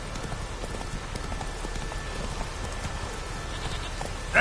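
Roach, the horse in The Witcher 3 on PS4 Pro, gallops with a steady, rapid clip-clop of hooves that stays close and even from start to finish.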